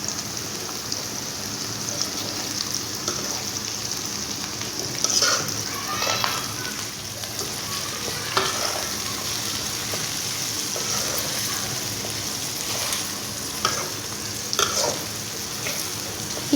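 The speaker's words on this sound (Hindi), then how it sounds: "अब हम इसको 1 से 2 मिनट इसी तरह फ्राई करेंगे" Achari bhindi (okra) stir-fried in a pan: a constant close sizzle, with scattered scrapes and clicks of stirring rising above it now and then, and no talking.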